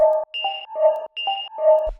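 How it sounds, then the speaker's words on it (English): A detuned FM synth patch with a very high and a lower oscillator plays a rhythmic, alien-sounding sine-like pattern of short repeated notes, clean and alone for about two seconds. "we're playing here with FM, where you got the first oscillator, like the main one, very high, and then the other one's lower"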